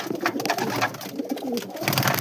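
Pigeons coo in a loft where a red-checkered pigeon with white eyes sits on its eggs, soft repeated throaty coos running steadily and close throughout, with faint rustling beneath.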